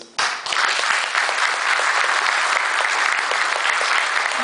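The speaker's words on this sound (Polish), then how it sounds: "Poproszę jeszcze w ramach kontynuacji braw, brawa dla mamy." Applause from an audience at an award ceremony, a dense, even clatter of many hands that starts abruptly and continues at steady loudness without talk.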